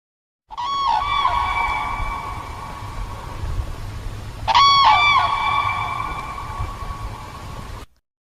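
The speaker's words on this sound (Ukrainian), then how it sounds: "журавель." A crane calls with two loud, ringing, trumpeting bugles several seconds apart, each sliding slightly downward, over a low rumbling background.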